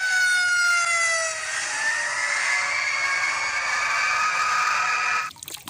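A toy fire truck siren wails loudly and steadily for about five seconds, a clear electronic tone, then cuts off abruptly with a brief click.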